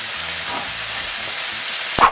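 Ketchup hisses and sizzles in a pan over low heat, a steady soft frying sound with a short sharper scrape from stirring at the end.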